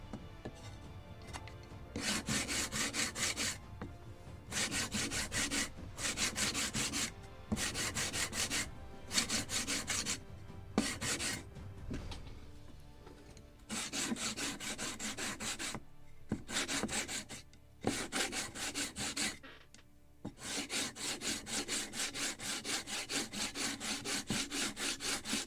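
Steady rasping strokes of abrasive against wood on a model ship kit's yards, repeated in long back-and-forth bursts with short pauses between, close and fairly loud.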